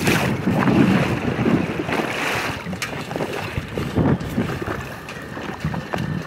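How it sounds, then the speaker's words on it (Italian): Wind gusts roar against the microphone on a heeling sailboat, with water sloshing along the hull in uneven bursts and no talk. "Perché la barca si inclina? Perché il vento la spinge lateralmente."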